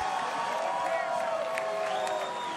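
A crowd at a heavyweight boxing match in Germany cheers and murmurs loudly and steadily, with whoops and scattered applause, as a commentator talks over it.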